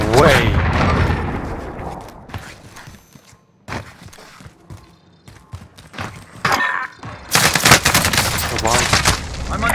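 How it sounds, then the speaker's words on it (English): Bursts of automatic gunfire in a Call of Duty: Modern Warfare firefight, loud and close, coming in clusters with gaps between them, while a player talks over parts of the action. "I'm under fire."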